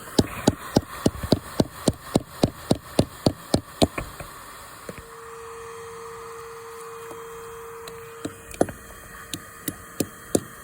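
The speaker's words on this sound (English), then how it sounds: "We use a little bit of wood between the wall and the hammer so that we don't damage any of the foundation stone." A hammer bangs on a piece of wood held against a block foundation wall, a rapid series of sharp, loud knocks that stops midway, then resumes more sparsely, with a faint buzzing hum between the blows.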